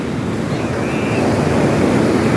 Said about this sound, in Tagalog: Ayan, laki ng alon, no?